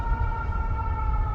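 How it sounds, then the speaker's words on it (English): A steady, sustained siren tone wails continuously over low rumbling background noise, fairly loud and unbroken throughout. "I'm hearing sirens"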